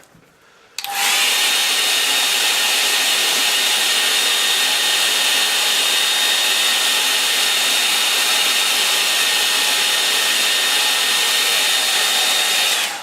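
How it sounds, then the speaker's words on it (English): A hair dryer blows steadily at close range for about twelve seconds, drying a gouache painting; it switches on abruptly with a loud, even whoosh and a faint high whine, with no talk over it. "Okay, right, I'll dry that off and then we'll put a little bit of highlight on it."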